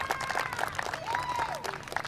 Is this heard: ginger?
no